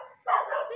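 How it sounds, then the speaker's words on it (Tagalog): A dog barks once, a short sharp yelp after a brief muffled whine, nearby and fairly loud. "Maingay yung aso sa baba."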